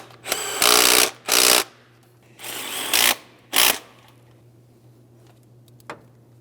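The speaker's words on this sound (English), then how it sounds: "go ahead and torque them to 27 foot-pounds" A power tool drives the starter mounting bolts on a 2003-2008 Toyota Matrix 1.8L L4 in four loud, close bursts of about half a second each, separated by short pauses over a low steady hum.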